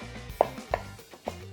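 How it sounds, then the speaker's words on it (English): A knife roughly chops rehydrated dried prawns on a board: three or four close, sharp thuds in an uneven rhythm, heard alone without talk. "Give it a rough chop."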